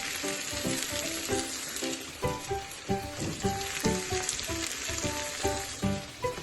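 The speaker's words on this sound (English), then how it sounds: "So we're going to fry that down a bit." Tomatoes, long sweet peppers and diced onion fry in a pan for menemen, a steady close sizzle with repeated scraping, stirring clinks against the pan.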